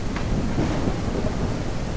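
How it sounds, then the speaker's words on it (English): Rain drumming on a vehicle roof in the farming game Ranch Simulator, a steady hissing patter with low rumble throughout and no talk. "Look how the rain is hitting the roof, the non-existent roof of the vehicle I'm in."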